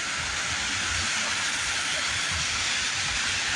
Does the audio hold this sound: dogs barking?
no